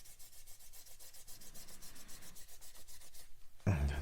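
Kitchen towel rubbed over oil wash on a 1/35 Border Models Spitfire Mk Vb, a steady close, soft rhythmic scrubbing of paper on painted plastic, ending with a louder, heavier handling noise.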